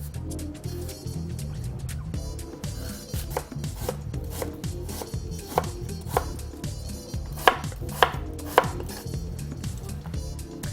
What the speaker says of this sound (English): If you have any blemishes on the fruit, just make sure you cut these away before you start slicing.